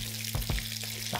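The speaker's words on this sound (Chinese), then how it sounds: "所以呢个咧我就要再慢慢煎透佢啦" Dried golden oysters pan-frying in a pan, a steady close sizzle with a few louder crackling pops and a faint electrical hum beneath, no voices.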